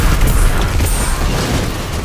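Scorch Cannon explosions in Destiny 2 during a Grasp of Avarice raid run: a dense, continuous rumbling boom with low roar and scattered crackling bursts, loud and steady across the whole span without talk.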